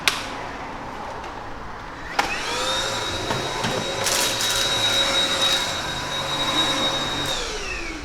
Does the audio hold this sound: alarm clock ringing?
no